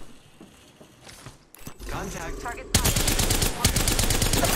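Rapid bursts of automatic weapon fire in an online shooter game grow louder over a few seconds, ending in sustained close gunfire, with a player talking over the opening.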